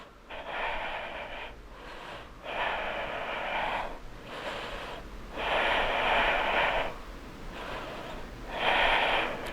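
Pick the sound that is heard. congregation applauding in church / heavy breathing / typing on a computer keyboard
heavy breathing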